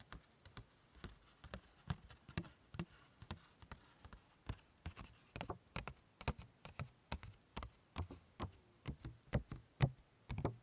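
A pen writing on an index card, heard as a close, quiet series of rhythmic taps and strokes repeating steadily in a hushed, still room.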